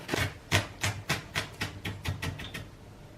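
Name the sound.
knife slicing onions finely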